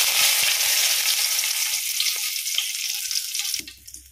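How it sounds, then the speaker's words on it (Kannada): Mustard seeds and curry leaves sizzle and crackle loudly in about two spoons of hot oil in a pan, a steady bright frying hiss that cuts off abruptly near the end, leaving quiet clinks. "ಎಣ್ಣೆ ಬಿಸಿಯಾಗುವಾಗ ಸ್ವಲ್ಪ ಸಾಸಿವೆ. ಸಾಸಿವೆ ಸಿಡಿದ ಮೇಲೆ 1 ಗೆಲ್ಲು ಕರಿಬೇವು"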